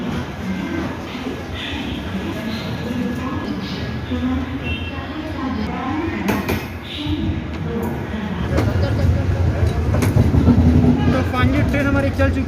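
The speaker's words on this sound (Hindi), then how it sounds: "फाइनली ट्रेन हमारी चल चुकी है नई दिल्ली रेलवे स्टेशन से ऑन टाइम शाम 5:40 पर।" The Poorva Express pulls out of New Delhi railway station with a steady loud rumble and rail noise that builds toward the end, while voices talk over it throughout.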